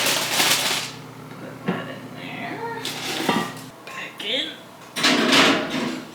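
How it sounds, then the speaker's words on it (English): A heavy Dutch oven lifted out of a home oven, with a few clanking metal knocks and scrapes and a drawer-like thud, interspersed with short bursts of nearby talk. "Get your oven mitts and get your Dutch oven out of the oven."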